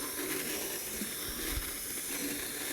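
A blender whirs steadily while oil is blended in, giving a constant hissing roar through the short stretch, near and moderately loud, with no talk.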